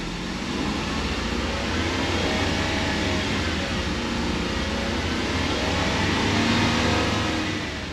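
A Lexus LS400's 1UZ V8, fitted with an A340 automatic in poor health, revs with a dense, continuous roar that stays close and steady while gears change, with no voices.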